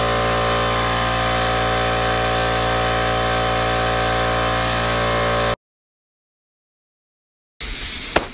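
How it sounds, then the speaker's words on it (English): Power tool scoring a cut line into the metal hood of a rat rod, a loud, steady high-pitched whine that runs continuously, then stops abruptly into silence before a brief burst of noise. "making a score cut, basically a line that I'll follow when I make the real cut"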